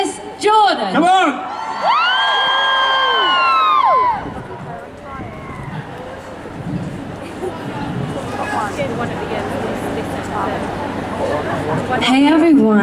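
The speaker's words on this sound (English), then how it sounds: "will you please give a massive cheer for the fantastic Alexis Jordan" A large outdoor crowd at the 2010 Regent Street Christmas lights switch-on in London cheers and whoops loudly for a few seconds, then settles into a lower, sustained murmur of shouts and chatter, with a loud voice speaking over it near the start.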